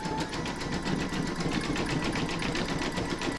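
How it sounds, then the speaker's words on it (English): An embroidery machine zigzag-stitches around the raw fabric edges of an in-the-hoop vintage witch's boot, a steady, fast, even mechanical chatter that runs close and loud for the whole stretch and stops abruptly at the end, with no voices. "pop your hoop back into your machine and stitch round number 4, and that's going to zigzag around the raw edges of the fabric"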